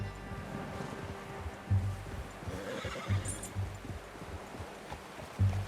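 A horse in the Western video game Red Dead Redemption 2 whinnies amid hoof clip-clops and rustling ambience, with several short snorting neighs spaced across the stretch.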